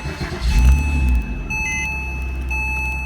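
A 2005 Porsche Boxster's flat-six starts with a short low burst, then settles into a steady low idle while electronic dashboard chimes sound over it.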